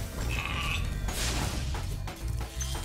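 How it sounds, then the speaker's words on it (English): A sheep bleats in the Spyro video game, a wavering cry rising over game music and mechanical effects, followed by a brief crash-like burst. "It is a sheep."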